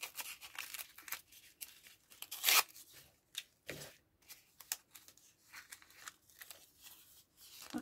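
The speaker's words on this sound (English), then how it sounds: "Let's put some washi tape on it." Washi tape pulled and pressed onto a notebook made from a paperback, a series of quiet close tearing and crinkling rasps in irregular bursts with brief pauses between.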